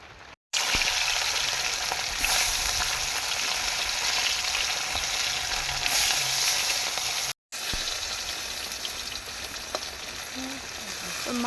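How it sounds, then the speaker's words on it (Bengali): Fish frying in a pan gives a loud, continuous crackling sizzle close by. Two very short silent gaps break it, and there is no talking over it. "তো মাছ ভাজা হয়ে গিয়েছে।"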